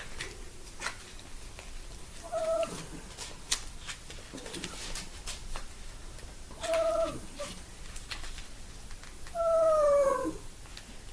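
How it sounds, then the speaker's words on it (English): Dog whining indoors, three or four drawn-out high whimpers spaced a few seconds apart, the last one longest, over quiet room tone. "So sorry if you hear that whining, that's my dog."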